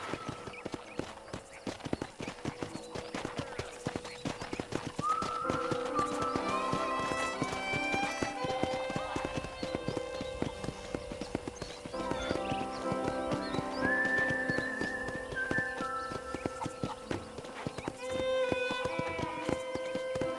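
In Red Dead Redemption, a horse trots along a ranch road, its hooves clip-clopping in a steady rhythm, with a few neighs and whinnies, soft in-game music tones and occasional voices.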